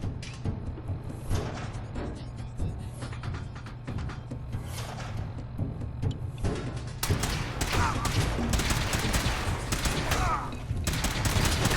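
Sustained gunfire from a Fallout 4 battle: steady volleys of shots and thuds with a low rumbling bed, growing denser and louder in the second half.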